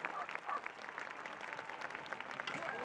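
An audience claps after a hit at a horseback archery (yabusame) display, sustained and moderately distant, with a voice speaking over the clapping.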